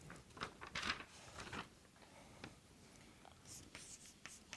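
Chalk or marker writing equations on a board during a lecture, heard as scattered scratchy strokes and taps, close but faint, with brief pauses between strokes.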